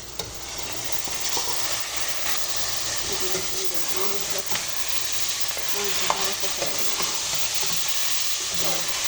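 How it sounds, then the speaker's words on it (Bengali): Chicken meat sizzles loudly in a pot for Saudi-style biryani, a close, continuous hiss of frying broken by the clatter and scrape of stirring throughout. "এখন আমি যে মাংস তৈছিলাম মাংসটা দিলাই"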